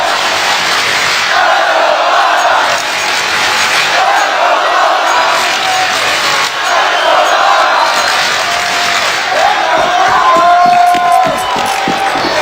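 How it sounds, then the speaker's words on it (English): A large crowd in an esports arena roars and cheers at a CS:GO major, a loud, continuous wall of shouting and cheering that swells without a break. "Listen to this crowd!"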